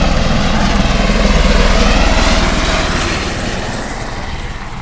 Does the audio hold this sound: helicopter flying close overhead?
yes